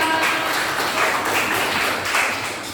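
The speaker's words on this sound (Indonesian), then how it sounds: "Tepuk tangan untuk kelompok 2." A classroom of students applauds a student group after its presentation on the circulatory system, a steady, dense wash of clapping from nearby hands that holds evenly throughout with no talk over it.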